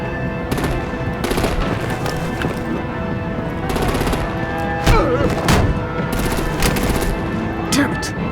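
Rapid machine-gun bursts and gunfire crackle continuously in a Batman: The Enemy Within game battle scene, with sharper explosive booms of artillery fire punching through near the middle and end of the loud, dense barrage.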